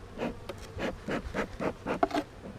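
Honey bees leave a hive that is being guarded against ants, giving off a soft, close buzzing hum that swells and fades in short pulses, with light scratchy rustles and no voices.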